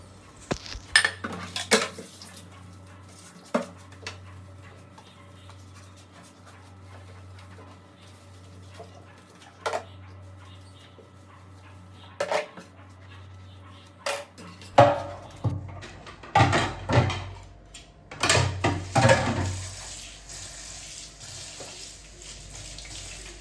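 Dishes and utensils being washed in a kitchen sink: clinks and clatters of plates, pots and cutlery over running tap water, in bursts that grow busier and louder toward the end, with no talking.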